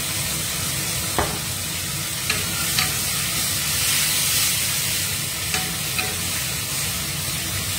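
Tongue sole fish pan-fries in a steady, loud, close sizzle with a dense even hiss throughout and a few faint clicks from the pan, no voices.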